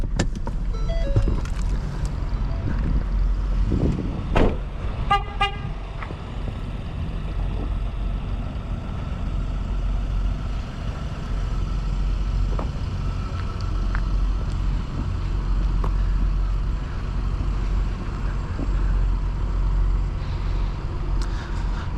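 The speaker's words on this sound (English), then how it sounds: "But let's get this Ford Taurus fired up." A 2019 Ford Taurus SHO with its 3.5-liter EcoBoost engine starts up and settles into a steady low idle, heard from close by, with a brief clicky burst of starter activity early on and no talking.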